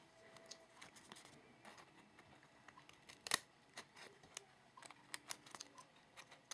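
Scissors trimming a small piece of paper for a pop dot, a run of crisp snips and clicks at uneven intervals, close and quiet, with one sharper snap midway.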